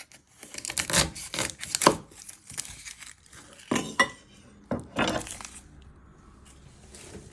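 A knife trims an onion on a cutting board, giving a series of close, sharp knocks and light scrapes at uneven intervals with quiet gaps between, and no voices.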